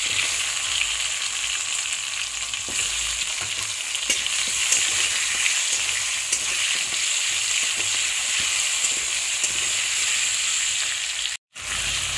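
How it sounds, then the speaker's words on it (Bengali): Nigella seeds, tomato and potato frying in hot oil, a loud, steady sizzle that runs without a break, with faint stirring clicks and a brief cut near the end. "কালো জিরে ফোড়ন দিয়ে আমি প্রথমে টমেটোটা দিয়ে দেবো, তারপরে আমি আলুটা দিয়ে দেবো"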